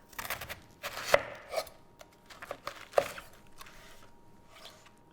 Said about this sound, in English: So to finally chop this, what I'll do is cut it in half.